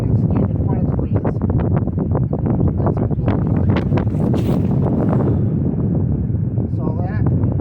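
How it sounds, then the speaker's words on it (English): Strong outdoor wind gusts buffet the microphone in loud, repeated bursts of rumbling noise that come and go throughout, close and harsh. "Gust of wind knocked the empty bag over."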